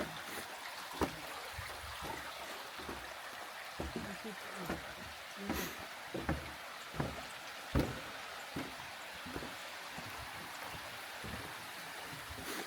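Cold spring water runs steadily down a hillside near Liard Hot Springs in a constant broadband wash, with scattered knocks and splashes rising above the flow.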